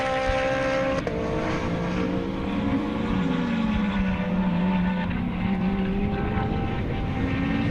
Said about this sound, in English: There goes the GT, the SAGT car of Leclerc and Chopsapuka. Both of them sharing that Lamborghini over there.